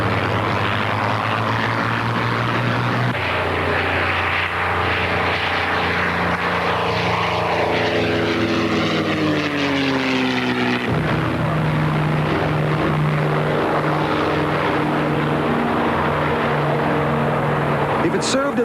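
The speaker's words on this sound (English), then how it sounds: "The P-51 Mustang is one of the most popular and highly desirable warbirds." A P-51 Mustang warbird propeller plane flying at the Oshkosh airshow, its engine drone rising and falling in pitch as it passes, loud and continuous throughout.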